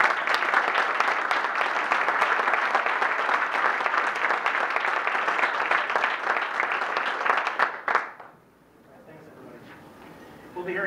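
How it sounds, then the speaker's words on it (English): A Rotary club meeting audience gives a round of applause, dense steady clapping for about eight seconds that stops abruptly, followed by quiet room tone and a faint voice. "so let's give them a round of applause"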